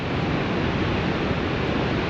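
Water pours over a dam on the Minnesota River in autumn, a dense, steady roar with no breaks, loud and close with no voices.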